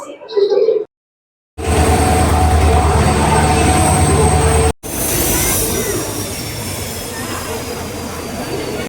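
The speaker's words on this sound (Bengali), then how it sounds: "এই আমাদের ট্রেন ছেড়ে দিয়েছে।" A Kolkata-to-Varanasi passenger train pulls out of the station with a loud, continuous low rumble and rattle of wheels on rails after a brief voice and a moment of silence, followed by a sudden cut to a slightly quieter, steady run.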